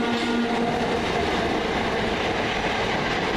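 A Govia Thameslink Class 319 train running into Farringdon, heard close as an even, loud rolling rumble with a low tonal hum and light wheel clatter, unbroken and free of voices.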